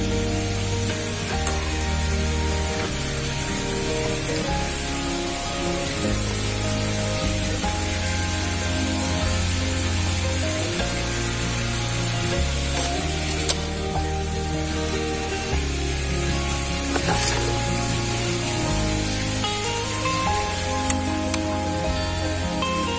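Spinach chips frying in hot oil give a continuous loud crackle and sizzle with spattering pops, steady throughout and without any voices.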